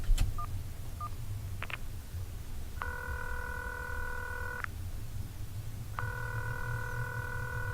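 A phone in the video game Concluse dials a number with a few quick touch-tone beeps, then two long, steady ringback tones separated by a pause, heard over a low hum.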